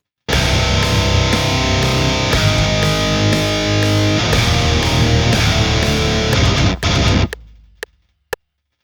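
A distorted electric guitar plays a chugging riff with tight notes muted by a rag on the strings, ending abruptly with a few short clicks.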